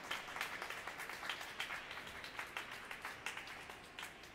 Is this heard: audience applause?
yes